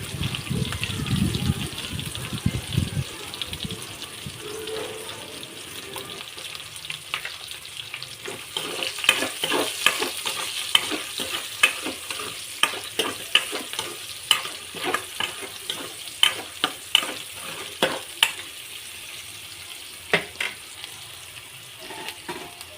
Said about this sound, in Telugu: పచ్చిమిర్చి ఉల్లిపాయ వేసుకొని లైట్గా దోరగా వేగేటట్టు చూసుకోవాలండి